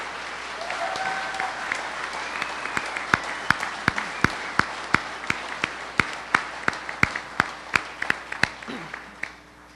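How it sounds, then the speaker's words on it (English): Audience applause at a public gathering, a dense steady wash of many hands clapping, with a few sharper, louder individual claps standing out at a regular pace near the microphone throughout. "I think you all deserve a big round of applause."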